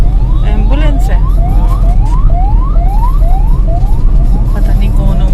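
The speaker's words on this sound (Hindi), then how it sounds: "एम्बुलेंस है" Ambulance siren wailing in a repeated rising sweep on a busy street in Dehradun, loud and close over steady traffic rumble.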